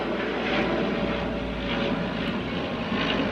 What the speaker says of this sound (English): That is so low. That is such a small airplane.